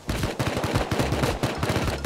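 Rapid automatic gunfire from an AK-style rifle in the survival game Rust crackles in steady repeated bursts, loud and continuous throughout.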